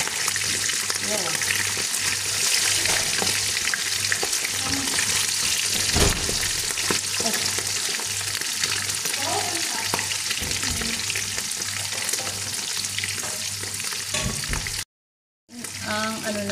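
Chicken sizzles and crackles loudly as it fries in hot oil throughout, with occasional stirring clatter; a brief silent gap near the end.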